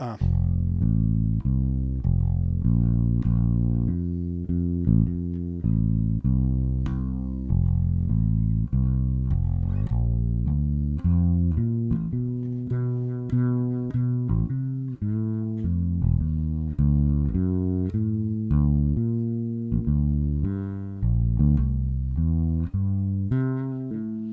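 Slow, evenly spaced notes on a low electric instrument step through basic triad tones (roots, thirds, fifths), each note ringing before the next one starts.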